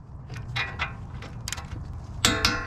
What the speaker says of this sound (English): deep 19mm socket, and I'm going to torque these lower ball joint bolts to 118 foot-pounds